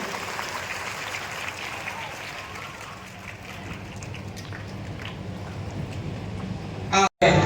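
Crowd applause at a school ceremony honouring a student, steady clapping from many hands for several seconds before a brief break near the end.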